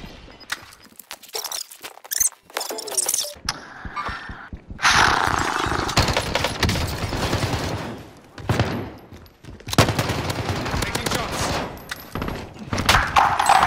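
Gunfire in Call of Duty Warzone erupts in loud, irregular bursts of rapid shots and sharp single cracks, with brief lulls between volleys and layered game effects, with no voices.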